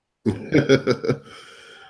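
A short burst of four or five harsh coughs in quick succession, close and fairly loud, trailing off into quiet breathing.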